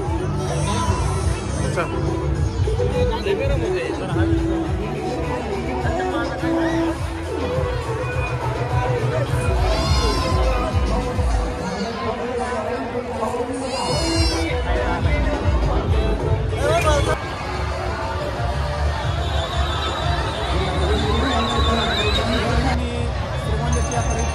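A large, crowded fairground at the Shri Sant Shekh Mohammad Maharaj fair in Shrigonda, with continuous overlapping chatter from many people nearby and voices rising and falling throughout.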